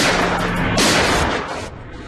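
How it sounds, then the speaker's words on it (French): Two gunshots from a handgun, fired by a police officer at a car window: loud, close blasts in quick succession, the second followed by a short fading echo. "Quand elle baisse sa vitre, Chappell sort son arme et tire 2 coups de feu"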